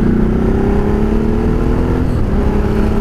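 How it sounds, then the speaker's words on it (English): A motorcycle fitted with a Ducati MIV exhaust accelerates, a loud close engine note rising in pitch with a shift near the middle; distinct pops and bangs are not clearly evident. "You get nice little bit of acceleration, nice bit of power out of her as well. And you get the little pops and bangs."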